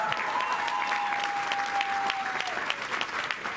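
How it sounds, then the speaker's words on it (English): Crowd applauding at a political rally in Mars, Pennsylvania, sustained even clapping filling the hall with a faint tone running through it. "okay, you can applaud that too if you want."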